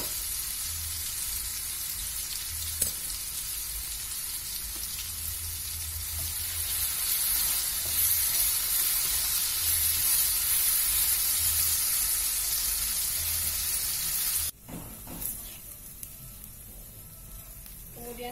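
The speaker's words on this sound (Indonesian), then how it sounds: "Kemudian kita tumis bumbu yang dihaluskan tadi ya." Ground spice paste sizzling in hot oil for Balinese ayam betutu, a continuous bright crackling hiss with occasional stirring clatter, close and steady throughout.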